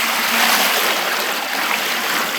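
Plain water pours in a steady, loud, close-up rushing stream while a healthy summer fruit juice is made in a village kitchen, with no voices.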